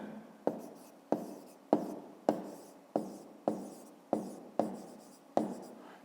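Pen strokes on paper as a 5th-grade maths answer is written out, making ten sharp evenly spaced taps with short scratches trailing each one, close and quiet with no talking.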